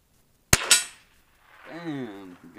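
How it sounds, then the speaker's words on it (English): A single sharp gunshot cracks close by and strikes a metal target, with a quick ringing clang right after. A voice then speaks nearby against a quiet outdoor background. "Bam! Got some hit on some metal."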